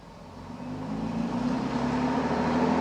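A bus engine drones steadily as it drives along, a low hum that swells slightly louder over a few seconds, with no voices.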